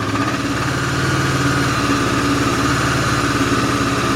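A Honda CB500 motorcycle engine runs at a steady idle close by, its even low pulsing firing rhythm and vibration holding constant throughout.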